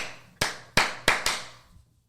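Four sharp hand claps ring out in an uneven rhythm, close and crisp in a quiet room, opening a podcast episode.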